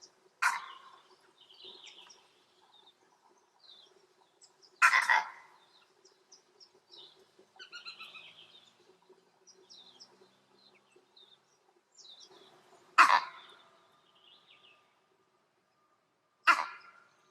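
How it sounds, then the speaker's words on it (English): Vervet monkey giving an eagle alarm call outdoors: four sharp, loud bursts spaced several seconds apart, with fainter chirps and background bird calls between them. "This monkey has spotted an eagle and is vocalizing the eagle call."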